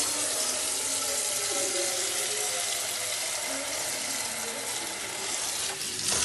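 Tap water runs in a steady, continuous rush into a cooking pot being filled for noodles, fairly close and unbroken, with no voices over it.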